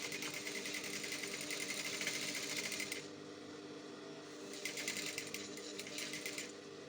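Sewing machine stitching around a slit in a fabric sleeve, a fast, steady mechanical whirring rattle close by that stops briefly midway and then resumes, with no talking.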